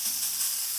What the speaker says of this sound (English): So now, veg oil, straight in. Next, your meat.